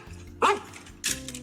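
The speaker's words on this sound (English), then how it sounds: "Barking." A dog barks twice, sharp and close, about half a second apart, with a low hum beneath.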